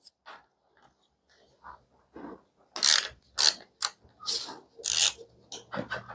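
A ratchet tightens the fork top cap on a Honda CRF125F, giving bursts of close, rapid clicking and rasping strokes that grow louder toward the end, with a little faint background noise.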